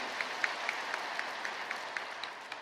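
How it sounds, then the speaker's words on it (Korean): A church congregation at a Sunday service applauds the choir, with steady, moderately distant clapping spread across a large hall, sharper individual claps popping out now and then. "뜨거운 감사의 박수 한번 주시기 바랍니다"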